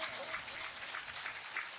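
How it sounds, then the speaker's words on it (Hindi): A large audience at a Shiv Katha religious discourse in India gives a dense, continuous round of loud applause, heard close and sustained throughout. "एक बार सभी के लिए जोरदार तालियां हो जाए"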